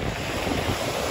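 Stormy sea churning with rough waves breaking on the shore after rain, a dense continuous roar heavily mixed with wind buffeting the microphone.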